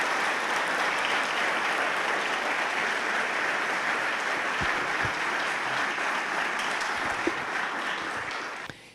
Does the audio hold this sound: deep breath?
no